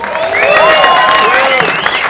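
An audience applauds and cheers for a festival sponsor at a screening event, with a dense, loud wash of clapping and whoops. Excited voices ring out over the clapping.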